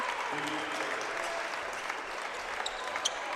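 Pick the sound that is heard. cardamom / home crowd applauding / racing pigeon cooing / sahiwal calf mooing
home crowd applauding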